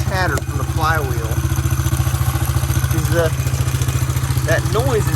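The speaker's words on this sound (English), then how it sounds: "I do hear a little chatter from the flywheel." A Honda XR70 dirt bike engine idles nearby with a steady, rapid low chug and a light mechanical chatter from the flywheel area, while a person speaks briefly over the running engine.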